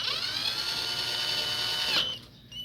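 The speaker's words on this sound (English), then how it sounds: "And it helps if your drill's going the right way." A power drill whirs at high speed for about two seconds while driving a bolt, then cuts off abruptly; a brief faint mechanical noise follows.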